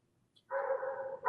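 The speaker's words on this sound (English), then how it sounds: "Can you hear the dogs barking?" A personal protection dog barks in a sustained run lasting close to a second, close and fairly loud, following a brief faint yip.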